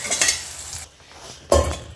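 Tempering (oggarane) sizzling in a cooking pot for egg masala, a bright hiss that fades, then a fresh burst of sizzle as more goes in, with light stirring clatter.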